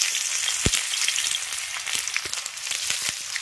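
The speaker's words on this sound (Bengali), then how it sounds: "তেল গরম হয়ে গেছে, এবার তেলের মধ্যে দিয়ে দেব কুচনো পেঁয়াজ।" Chopped onion hitting hot mustard oil, a loud, dense, continuous sizzle with faint crackles and a couple of light clicks, close and unbroken.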